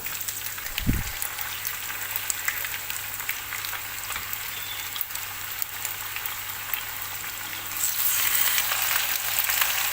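Chicken pieces fry in hot oil while a Saudi kabsa is made, a steady close sizzle throughout with one low thud near the start and the crackle swelling louder toward the end.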